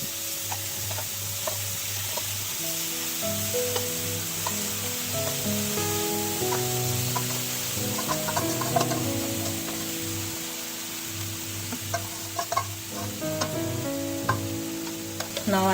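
Paneer tikka pieces sizzle and fry in oil on a hot tava, a continuous loud crackle with a scrape of stirring and clinks of a utensil against the pan.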